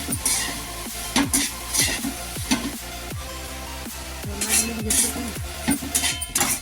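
Soybean kheema stirred and frying in a pan, with a steady sizzle under repeated scraping strokes of a spoon, close and loud, and no talking.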